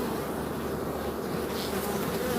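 Dense, steady humming drone of honey bees swarming around a hive while a beekeeper puts comb back in Jamaica, continuous and close with no pauses or talk.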